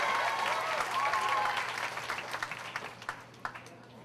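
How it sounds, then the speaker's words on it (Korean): A church youth festival audience applauds and cheers to welcome a pastor to the stage, a dense wash of clapping with a sustained shout fading into scattered, individual claps toward the end. "여러분 박수와 함성으로 맞이하겠습니다"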